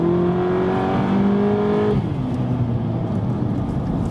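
A VW Polo GTI's engine pulls hard on a racetrack, a loud steady drone rising in pitch, then dropping sharply at a gear change before building again.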